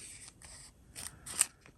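Scissors snip through paper pages for a Filofax planner, several quick quiet cuts in an uneven rhythm, close and soft with no voice.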